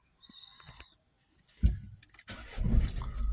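A Citroen Berlingo 1.6 HDi diesel engine with an inlet air circuit actuator fault cranks with a short whirring starter, then catches and settles into a steady idle, close by after a quiet ticking beginning.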